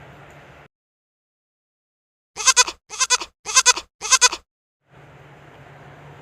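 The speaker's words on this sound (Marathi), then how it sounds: "बकरी" A goat bleats four times in quick succession, loud, wavering cries close by, bracketed by a faint outdoor hum with a low drone before and after.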